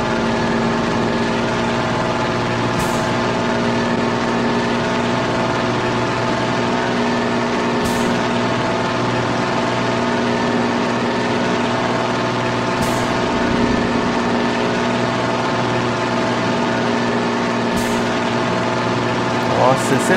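A heavy truck engine in the video game Grand Truck Simulator 2 idles steadily up close, a deep continuous rumble near the exhaust with faint periodic clicks, no voices over it.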